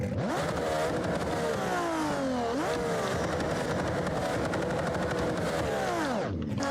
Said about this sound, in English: I gave this thing an inline 6 out of the Bolide Pro Car mod. This thing uses the RB28 sound mod